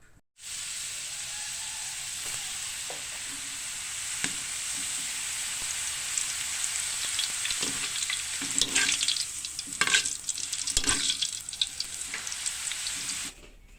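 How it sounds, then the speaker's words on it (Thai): Khao soi noodles deep-frying until crispy in hot oil: a continuous, close sizzle and hiss lasting over ten seconds, growing busier with crackles and occasional stirring clatter, no talking. "แล้วเราก็นำเส้นข้าวซอยมาทอดกรอบเพื่อรวยหน้าข้าวซอยของเราค่ะ"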